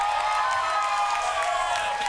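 A concert crowd at Ace of Spades on a Friday night cheering and clapping in a steady roar of applause with shouts, continuous for the whole moment.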